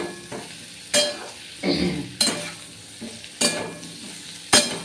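Pumpkin stir-fried in a pan with turmeric and chili powder: a steady background sizzle broken by several sharp scraping stirs of a spatula at irregular intervals, close and clear with no talking.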